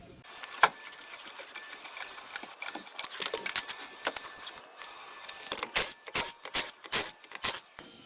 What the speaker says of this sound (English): We're using a 17mm socket with impact wrench.